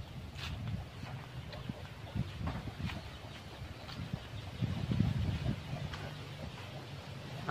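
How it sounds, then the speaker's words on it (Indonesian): Steady wind blows through foliage, a continuous rustling roar with gusts that swell and fade, low rumble of wind buffeting underneath. "Angin sangat kencang teman-teman, menerpa dedaunan ya."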